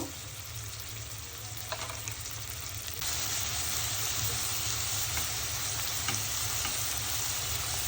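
Chopped onion and green chillies sizzle steadily in hot oil for a rui fish jhuri, a continuous close frying hiss with occasional stirring scrapes and no talk.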